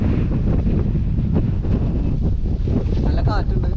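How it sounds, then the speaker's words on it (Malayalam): Strong wind buffets the microphone on the Munnar Gap hill road in the early morning, a steady, loud, broadband roar throughout with faint voices underneath. "നല്ല കാറ്റുണ്ട്"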